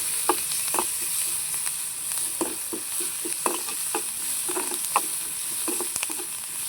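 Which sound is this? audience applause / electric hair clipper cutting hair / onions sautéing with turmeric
onions sautéing with turmeric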